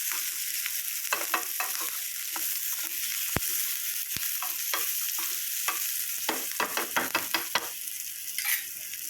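Shallots and cumin fry in ghee in a pan while a spoon stirs them, giving a steady sizzle broken by repeated scraping clicks and two sharp knocks, close and without talk.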